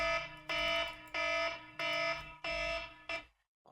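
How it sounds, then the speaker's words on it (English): Electronic alarm beeping loudly in repeated half-second bursts, five pulses in steady rhythm, close and harsh, with no talk over it, heard while a player is on a bear-hunting task in a game. "my alarm is going off there"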